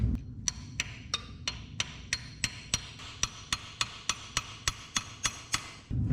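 Steady hammer taps on a stuck clamp on a 1988 Chevrolet 3500 truck engine, about fifteen evenly spaced sharp metallic strikes, close and clear over a low rumbling background, with no talk.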